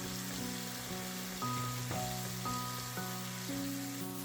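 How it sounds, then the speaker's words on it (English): A blended tomato and green chili mixture for fish kofta curry sizzles in oil in a pan, a steady, moderately loud frying hiss heard up close without any talk. "Cook this on low heat until the oil separates and the mixture thickens"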